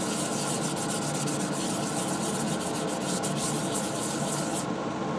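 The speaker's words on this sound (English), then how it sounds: "I'm just going to sand it by hand" Steady, continuous abrasive rubbing of fine 320-grit sandpaper on a spalted maple woodturned bowl, sanded lightly by hand, close up and even throughout, stopping just before the end.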